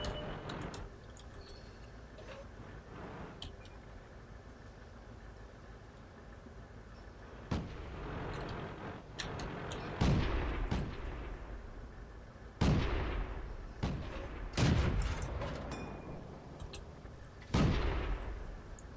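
Artillery fire in World of Tanks, several heavy booming shots spaced seconds apart, each with a sharp crack and rumbling tail, over a low battlefield hum.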